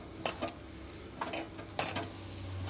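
A spoon or hand works sabudana chop mixture with torn curry leaves in a bowl, giving a few quiet, separate clinks and scrapes against the dish with soft pauses in between.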